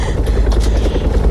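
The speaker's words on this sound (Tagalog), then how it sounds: "Nagpatungod din ang helikopter." A helicopter flies overhead, its rotor roar loud, close and continuous with a rough, pulsing chop.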